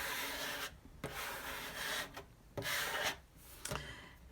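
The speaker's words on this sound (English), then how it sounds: "I'm going to flip it over and burnish it from the back." Printable heat transfer vinyl for a Cricut project being burnished from the back, heard as a run of close, dry rubbing strokes in short bursts with brief pauses between them.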